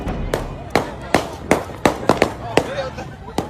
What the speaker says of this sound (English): Gunfire suddenly erupts from what witnesses describe as multiple shooters